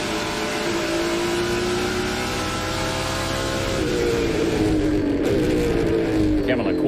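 Onboard a #13 Chevy NASCAR Pinty's stock car racing at ICAR, the engine howls at high revs with a rising pitch that dips on a shift, loud and constant, with a race commentator talking over it.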